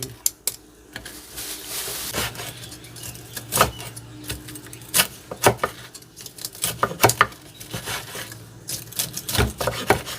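A knife cuts through crispy fried Thai pork belly, giving a series of sharp, close crunches and crackles at an irregular rhythm over faint background noise.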